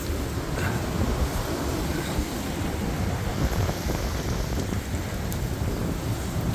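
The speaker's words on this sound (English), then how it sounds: "The rain's starting to come in sideways." Storm Eowyn drives rain sideways on strong gusts, a steady dense hiss of rainfall and wind buffeting that fills the whole stretch without a break.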